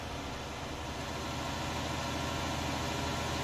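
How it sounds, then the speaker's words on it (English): A large tractor engine in the Farming Simulator 19 game, running as a steady, low, even drone with a faint mid-range hum, quiet and unbroken with no talk over it. "So nice, that tractor."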